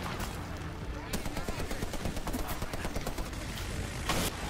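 Gunfire in the shooter Medal of Honor Warfighter, with rapid bursts of automatic fire and scattered shots crackling continuously at close range.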